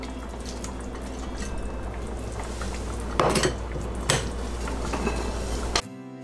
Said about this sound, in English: Now I'm going to add my fried shrimps.